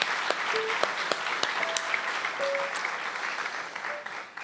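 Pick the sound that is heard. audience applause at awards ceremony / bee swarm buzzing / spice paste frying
audience applause at awards ceremony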